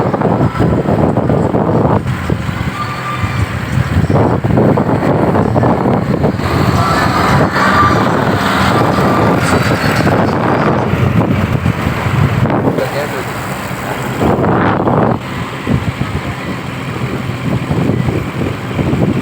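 Vehicles on a national highway beside open roadside land, heard as a constant loud roar of passing traffic with wind buffeting the microphone throughout, swelling and easing as vehicles go by.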